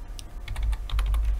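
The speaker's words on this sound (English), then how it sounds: "So in the box here, we can type in whatever phone we're looking for." Typing on a computer keyboard to search for a phone model, a quick run of close, crisp key clicks in an uneven rhythm.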